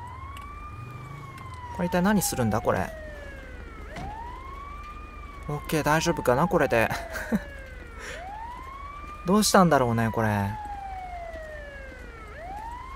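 A wailing ambulance siren in the video game GTA 5, sweeping up and down continuously across the whole scene, with someone talking over it in bursts.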